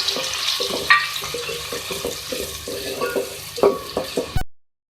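Two medium onions frying in oil for a beef masala, a steady close sizzle with soft scraping and stirring clatter, no voices.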